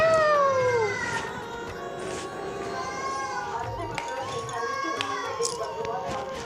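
A cat meows several times in a village setting, drawn-out cries near the start and shorter calls later, with children and adults chatting nearby.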